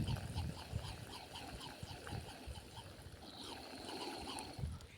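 A hand pump sprayer applies pesticide in a farm field with a faint, steady hissing spray and a splashy, watery texture. Occasional soft low thumps come through, and a voice is faintly present.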